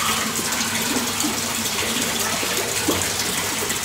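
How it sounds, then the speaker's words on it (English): Water gurgles steadily in a minimalist koi pond, a close, continuous trickling and splashing with no talking. "the natural sound of the gurgling water"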